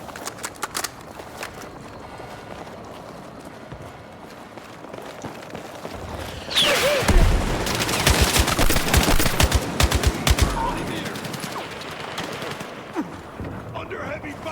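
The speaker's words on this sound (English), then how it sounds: "Under heavy fire." Heavy gunfire from Battlefield 6 crackles as rapid, overlapping automatic bursts. It starts moderate, then swells into a loud sustained barrage midway with footsteps and shouted voices mixed in.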